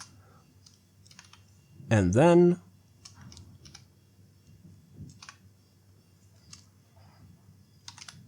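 Fingers tap code on a computer keyboard in scattered soft clicks, faint and close, with a brief spoken phrase near the start.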